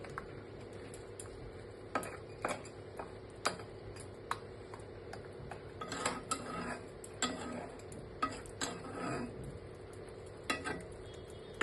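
Shrimp being turned in masala in a pan for chingri malai curry, with soft spatula clicks and scrapes against the pan over a quiet sizzle, several sharper taps spaced irregularly.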